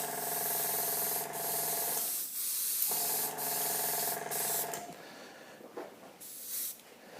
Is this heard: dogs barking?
no